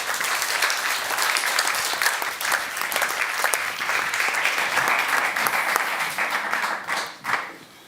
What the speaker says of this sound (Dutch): Mag ik een hartelijk applaus voor Bernke Klein-Zandvoort.